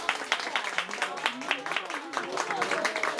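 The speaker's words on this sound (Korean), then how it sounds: "쉽지 않았을 동료의 발심에 박수가 터집니다." At a Buddhist temple, a small group claps for a colleague who has just had their head shaved. The applause is brisk and uneven, with individual claps clearly distinct, and it sounds fairly close.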